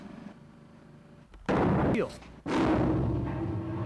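An explosive charge detonates against a concrete test wall coated with Paxcon polyurea, giving a sudden loud blast followed by a second heavy roaring burst and rumbling debris.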